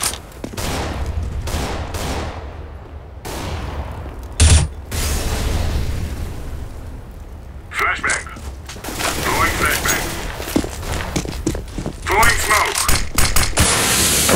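Grenade blast and gunfire in Counter-Strike: Global Offensive on the Dust 2 map, with a sharp loud explosion partway through amid rapid rifle shots and clatter, and voices talking over the action.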